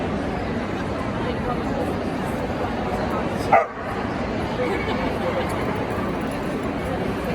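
Several small, feisty dogs bark and yip at a Kennel Club Good Citizen Dog Scheme bronze test at Crufts 2022. The barking is partly buried in steady crowd noise and speech, with one brief louder burst midway.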